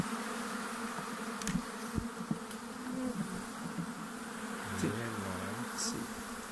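Honeybees drone steadily around an open beehive in summer on Ometepe, Nicaragua, a dense continuous buzz with individual bees passing close, and a voice speaks briefly partway through.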